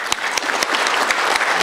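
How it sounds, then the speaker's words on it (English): A conference audience gives a loud, full round of applause to welcome a keynote speaker, dense steady clapping from a large room with a few sharper individual claps popping through. "So please give a big round of applause to Robert."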